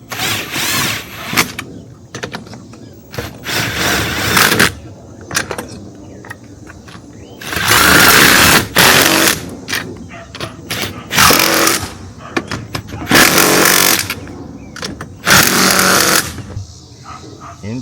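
A socket wrench tightens a washer and nut while an awning is installed on a vehicle, giving loud repeated bursts of metallic ratcheting and grinding that come in several separate runs with short pauses between them.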